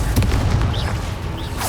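Confringo blasting spell going off in Hogwarts Legacy, a dense, booming explosive burst that fills the short moment with a rumbling low roar and crackling debris, loud and close with no voice over it.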